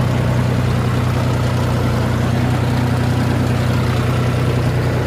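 A John Deere 5055E turbo tractor engine runs at a steady idle close by, a loud, even low diesel rumble with constant vibration and no change in pace.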